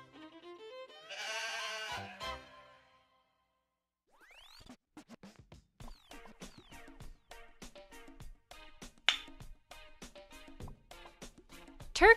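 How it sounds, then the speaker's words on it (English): Goat bleating in a farm-animal sound sequence: one drawn-out wavering bleat followed by a run of quieter clicks and scratchy noises, fairly faint overall. "Goat."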